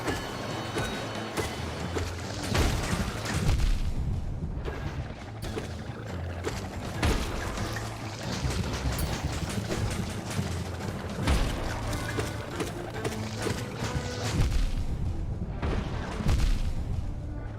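Dense, chaotic battle noise from Hollow Knight's Godhome, with repeated booming hatchling explosions and crashes piling over one another, loud and continuous throughout.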